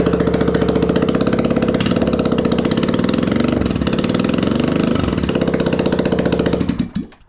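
A Honda Rubicon ATV engine runs with its exhaust removed, a harsh, rapid, pulsing idle with a rough mechanical rattle, revving briefly before it cuts off near the end.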